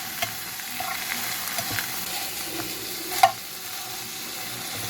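Sliced-open Italian sausages fry in a pan with a faint, steady sizzle, broken by light stirring and scraping and one sharp utensil clink near the end.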